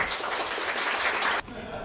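Audience applause after a tech talk, a dense burst of clapping that cuts off abruptly near the end.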